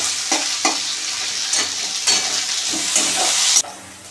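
Cashews, raisins and a dried red chili fry and sizzle in hot oil in a pan, close and loud, with a continuous hiss and several scraping stirs of a spoon at a steady pace.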